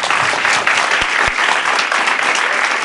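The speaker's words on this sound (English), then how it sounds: "A loud applause, please." Loud audience applause at a spiritual gathering, a dense burst of many hands clapping together that sustains steadily throughout.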